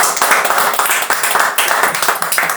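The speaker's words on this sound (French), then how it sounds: "Moi je propose qu'on applaudisse les invités." Close, lively clapping from a small group around a table at a wagyu fondue bourguignonne meal, quick uneven hand claps loud and near, with no talk over them.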